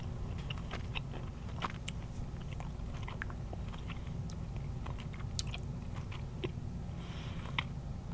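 Sour Patch Kids candy chewed close to the mic, a steady run of soft, wet squishes broken by scattered sharper crackles, with a low background hum throughout and no talking.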